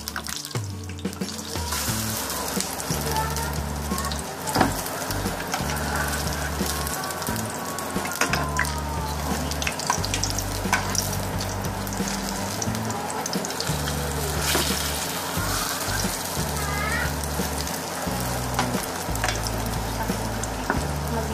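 Aloo kababs shallow-fry in oil with a dense, steady sizzle and crackle throughout, broken by occasional utensil knocks and a constant low hum in the background.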